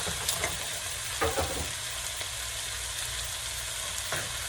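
Broccoli frying in a pan for fried rice and teriyaki chicken, a steady close sizzle with a few soft stirring bumps and no talk.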